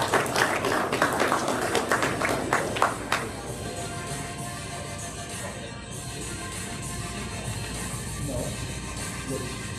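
A crowd applauds at a regional drone racing event: a dense burst of clapping that is loud for about three seconds, then thins out into a lingering, low wash of room noise.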